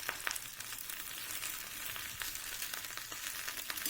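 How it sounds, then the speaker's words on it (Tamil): Okra sautéing in oil in a pan, for a tamarind kuzhambu, gives a continuous bright crackling sizzle with scattered pops, steady and close, with no voices. "எண்ணெயிலேயே இந்த வெண்டைக்காய் நல்லா வணங்கி வரட்டும்"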